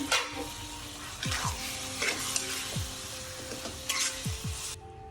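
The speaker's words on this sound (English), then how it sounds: "In comes that shrimpity shrimp, and we're gonna let that cook for about 3 more minutes." Shrimp sizzling and frying in a hot pan for a cheap rice combo meal, a steady crackling hiss with occasional stirring scrapes and clinks throughout, close and moderately loud.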